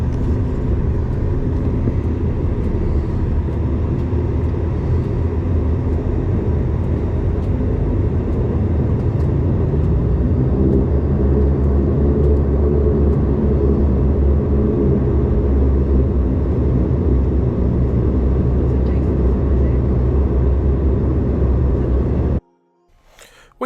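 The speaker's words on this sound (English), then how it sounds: "We taxied out and went down to the end of Mount Isa's runway 16, where we made an on-time departure" A Qantaslink Dash 8 Q400 turboprop at Mount Isa runway 16 taxis and departs, a loud continuous rumbling drone of propellers and engines heard from inside the cabin that swells steadily before cutting off abruptly near the end.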